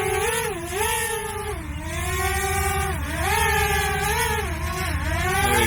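A DJI drone taking off, with a steady high-pitched whine of spinning rotors whose pitch swoops up and down as the throttle changes, loud and close throughout.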